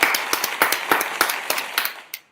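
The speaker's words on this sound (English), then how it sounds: "Let me give you a round of applause." A small group claps at a talent event, the claps coming as distinct sharp hits in a loose, fairly quick rhythm that tapers off with one last clap.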